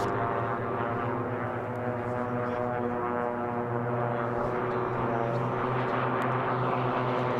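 Racing biplanes drone past during a heat at the 2018 STIHL National Championship Air Races, a steady propeller-engine hum with layered tones that holds for several seconds, moderately loud, with no talk.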